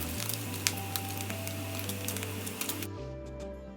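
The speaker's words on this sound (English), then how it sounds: "Turn around the paneer on all sides to evenly fry the paneer." Paneer cubes shallow frying in oil in a pan, a steady crackling sizzle with small popping clicks, close and continuous, no talk.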